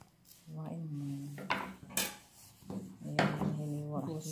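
Ginger being cut on a board while cooking squash, with several knife knocks and scrapes scattered among dish clatter and a ringing tone, under a voice talking.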